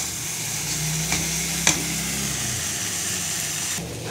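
Taro flowers frying in an open pan over a raised gas flame, a steady soft sizzle running throughout with a couple of brief clinks of a utensil.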